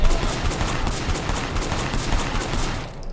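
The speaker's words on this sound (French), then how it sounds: "Donc maintenant, on se la joue avec une arme de poing." Rapid handgun gunfire in the video game Sleeping Dogs: dense, loud, continuous volleys of shots with crackling impacts, fading out at the very end, with no talk over it.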